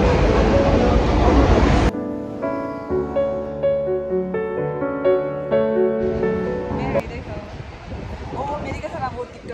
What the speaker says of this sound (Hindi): अभी हम राजीव चौक का मेट्रो में हैं